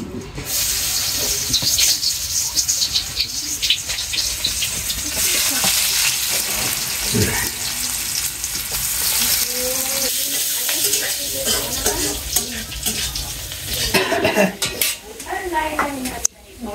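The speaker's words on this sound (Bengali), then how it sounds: "এখন তরকারির জন্য পেঁয়াজ দিয়ে দিলাম তেলে নেড়ে" Onions sizzle in hot oil in a pan while being stirred, with steady frying hiss, scraping and clinking of a utensil against the pot, and a person speaking intermittently nearby.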